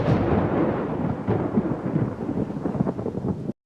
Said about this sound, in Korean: 먹구름 낀 하늘에서 천둥 소리가 울려 퍼졌습니다.